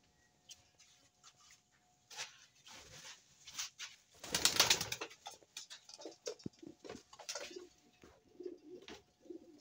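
Pigeons in a loft cooing softly in scattered low calls, with ticking, shuffling and a brief louder burst of wing flapping and clatter near the middle.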